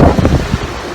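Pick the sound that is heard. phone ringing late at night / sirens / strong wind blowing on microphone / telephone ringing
strong wind blowing on microphone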